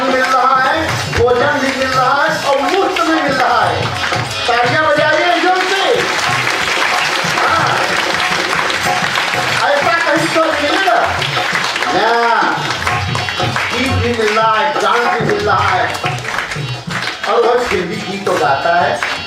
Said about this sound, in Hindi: तालियां बजाइए जोर से।